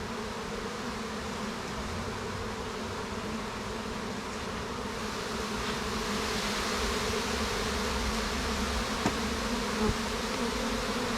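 Honey bees swarm around a hive, a dense continuous buzz close by that holds steady throughout with no voices.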